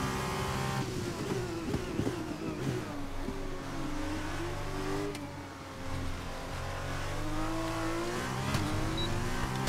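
Formula One car from the F1 2021 game lapping the Belgian Grand Prix circuit, a steady high-pitched engine whine rising and falling through gear changes, loud and continuous with no talk.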